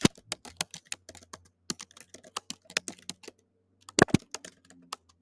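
Fingers tap out a quick note on a computer keyboard, a close, crisp run of irregular key clicks with brief pauses and a heavier cluster of strokes near the end, no voices.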